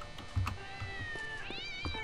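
A cat in the video game Postal 2 meows with a rising, drawn-out cry over a soft background of game music and light clicks.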